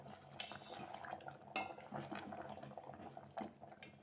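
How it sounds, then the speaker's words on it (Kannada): Cucumber majjige huli, a buttermilk curry thickened with rice, bubbles in a pot, with clinks and scrapes of a utensil stirring and tapping against the metal, close and moderately quiet. "ಈಗ ಕುದ್ದಿದೆ ನೋಡಿ, ಮಸಾಲ ಚೆನ್ನಾಗಿ ಕುದ್ದಿದೆ"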